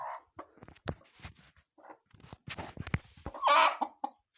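A laying hen clucks in short, uneven bursts close by, with a few sharper squawks among quieter gaps.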